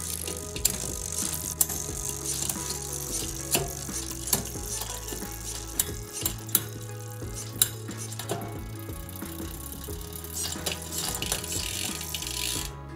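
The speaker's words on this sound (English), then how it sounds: "I still feel that the cassette is noisier than the XT cassette." A Sunrace 11-46T bicycle cassette rattles and clicks during a ride on gravel climbs, with irregular metallic ticks and clatter over a low drivetrain hum. No one speaks.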